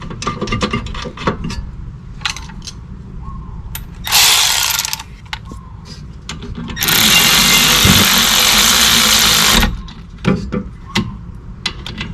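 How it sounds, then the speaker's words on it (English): A ratchet tightens bolts on the rear brake caliper mount of a 2005 Toyota Highlander, with loud, close bursts of rapid clicking separated by short pauses and handling noises. "Tightening my bolts."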